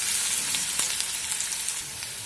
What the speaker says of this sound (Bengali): দিয়ে সবগুলোকে আমি নাড়াচাড়া করে হালকা ব্রাউন হওয়া পর্যন্ত ভেজে নেব।